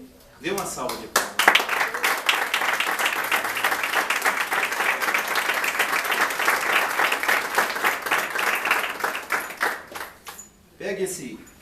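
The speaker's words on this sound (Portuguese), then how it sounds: "Dê uma salva de palmas." A church congregation applauds during a Passover teaching, with steady, dense clapping from many hands that lasts about ten seconds before fading, loud and close, with brief speech at the start and end.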